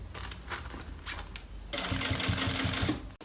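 A sewing machine topstitches a backpack, a soft hum at first, then the motor runs loud and steady for about a second and a half before cutting off abruptly.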